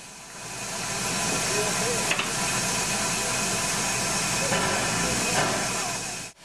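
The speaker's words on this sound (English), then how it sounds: "Fuel is burned to heat water, which expands as steam and creates power to move pistons" Steam locomotive hissing steam, a steady, broad hiss that stays loud and even for about six seconds with a faint low rumble beneath and a couple of small knocks.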